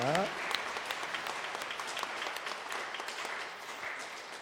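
Sustained applause from a church congregation honoring an orchestra's worship performance, a thick, even wash of many clapping hands that holds steady throughout and tapers slightly at the end.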